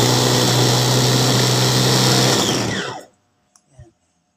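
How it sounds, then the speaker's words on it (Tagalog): An electric blender whirs loudly and steadily while mixing kimchi ingredients, then winds down and stops, followed by a couple of faint knocks. "Tsaka i-blender natin."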